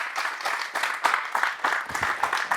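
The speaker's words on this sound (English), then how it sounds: "Let's give him a round of applause." A small group applauds at a leg-lock grappling seminar to welcome Frank Shamrock, loose separate claps in an uneven rhythm, fairly close and loud, with no talk over them.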